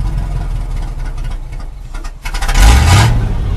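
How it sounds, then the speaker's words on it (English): A 1969 Chevy engine idling roughly, with uneven throbbing that rises into a sudden rev near the end, close and fairly loud with no talking. "The reason I'm revving it is because it doesn't want to idle. Here, I'll let it idle down for you."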